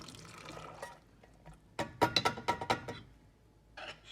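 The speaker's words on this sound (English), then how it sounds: "You're going to take your can of pigeon peas, water and all, add it to the pot." Canned pigeon peas with their water tipped into a cooking pot for rice and pigeon peas, giving a short burst of splashing, knocking pours in quick succession.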